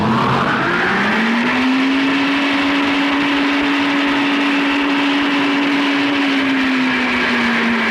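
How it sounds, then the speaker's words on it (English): A wind tunnel blower spins up and holds a loud, steady roar with a constant whining tone, running at an unchanging speed. "when we start the blower, we should expect the same speed as before"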